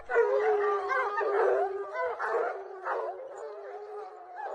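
A pack of hunting hounds howls and bays together, long overlapping wavering howls rising and falling continuously at moderate distance.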